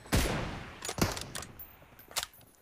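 Gunfire in the video game PUBG during a team deathmatch sniper match: several sharp, loud shots in a rapid burst with ringing tails, spaced across a few seconds, no talking over them.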